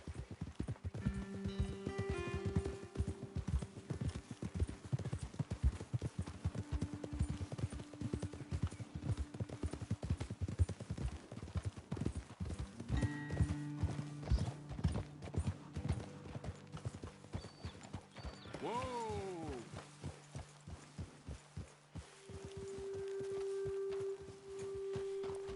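Horse hooves clip-clop steadily in the Red Dead video game as riders travel a path up toward a hilltop vantage point, a continuous near rhythm of hoofbeats with a brief neigh partway through and faint background music.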